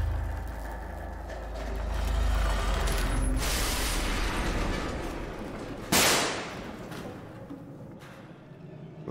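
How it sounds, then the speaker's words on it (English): Gunfire in the horror video game Layers of Fear 2: a low mechanical rumble builds, then one sharp, loud gunshot bursts out, followed by a fading tail. "Thank you for the gunshot."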